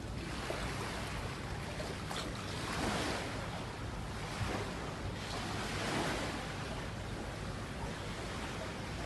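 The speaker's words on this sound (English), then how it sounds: "Nice wind, not too hot." Wind and surf on Tommy Beach in Jamaica: a continuous broad wash of breaking waves with gusting wind buffeting the microphone, steady and fairly loud throughout, no talking.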